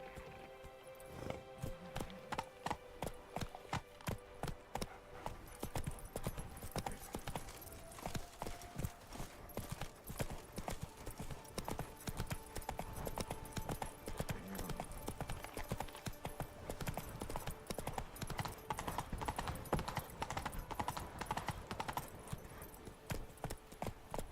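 Roach, a horse in The Witcher 3, gallops with rapid, even clip-clop hoofbeats that run without a break, set against game music and ambience.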